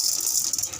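Chana dal poured into hot oil with spluttering mustard seeds, a short bright crackling sizzle and rattle, close and steady, with no talking.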